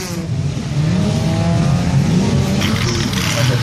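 A rare vintage race car with an early Lotus-era powerful engine driving on a circuit, its steady loud engine drone holding throughout with a rising rev toward the end, no voices.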